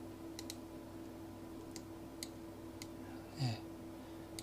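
Sparse, light clicks from a computer mouse and keyboard, including Ctrl key presses, spaced irregularly over a low steady hum, with a brief soft thump near the end.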